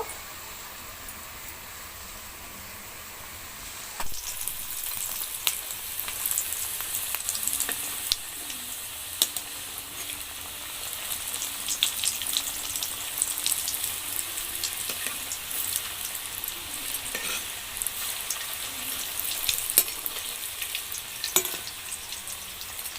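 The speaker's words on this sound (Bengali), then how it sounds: "তো লাল লাল করে সবগুলো আমি ভেজে নেব।" Quiet hiss at first, then a strong continuous sizzle of chops frying in oil, speckled with small pops and occasional utensil clinks.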